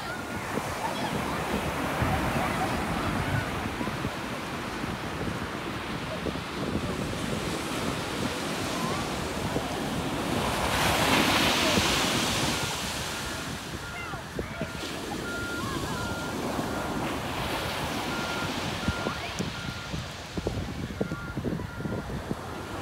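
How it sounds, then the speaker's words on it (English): Ocean waves break and wash onto a beach in a steady, roaring surf, with strong wind buffeting the microphone and one louder crashing swell midway, as family members talk faintly in the background. "learning about the ocean and waves"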